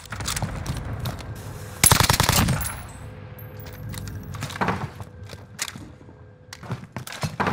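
Gunfire in the video game Warzone, with a loud burst of automatic fire near the start and then scattered shots and thumps at a lower level.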